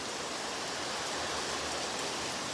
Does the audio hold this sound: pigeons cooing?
no